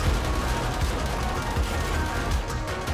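SMG turrets in 7 Days To Die fire dense, continuous rapid bursts at a zombie horde, a loud crackling rattle with no pause.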